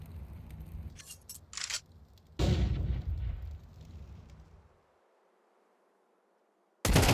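Sharp Desert Eagle pistol shots in a Counter-Strike match, several cracking bursts in quick succession with one heavy report, then a brief silence before another loud shot at the end.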